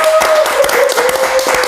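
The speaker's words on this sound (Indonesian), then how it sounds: "Tepuk tangan buat Hersa." Several people clap hands in a quick, uneven burst, close by, with a faint sustained tone underneath.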